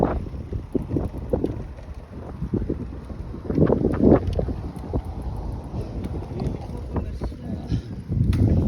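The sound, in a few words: wind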